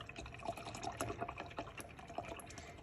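Paintbrush rinsed in water while crafting a recipe journal pocket, giving a steady, close trickle and splashing of liquid with small swishes and drips throughout.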